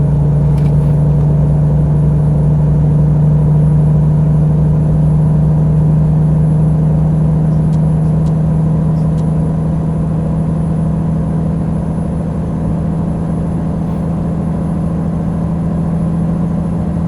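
Modded truck engine in American Truck Simulator, a loud, steady, low droning rumble that holds constant throughout with no talk over it.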